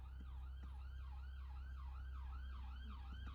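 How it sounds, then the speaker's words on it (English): An ambulance siren wailing in a regular rising-and-falling cycle, heard at a distance over a low steady hum, fairly faint but clearly repeating. "There goes an ambulance."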